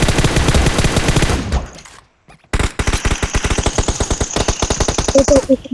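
Rapid automatic gunfire from the mobile battle-royale game PUBG Mobile, with dense, loud bursts of repeated shots, then a short pause and another long, continuous stream of rounds.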